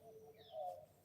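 Birds chirping softly in the early morning in Kingston, Jamaica, a faint, brief call rising and falling over quiet background hiss.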